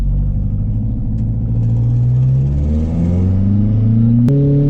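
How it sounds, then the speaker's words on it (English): Stage 3 Ford Fiesta ST180 pulling onto a race track, its engine rumbling loud and close as revs climb steadily, with a sharp burst near the end from a leaking turbo boost blow. "you can hear it just from pulling off onto the track, how loud that blow is now"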